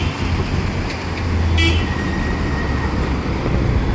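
A Maharashtra state transport bus rumbles steadily on a road, with one short, sharp horn toot partway through and constant traffic noise around it.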